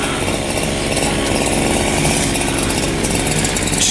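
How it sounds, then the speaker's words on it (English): A chainsaw runs loud and close, cutting the tops off 6x6 wooden fence posts in a steady, continuous snarl. "Just gonna chainsaw the tops off them. Off these 6x6 posts."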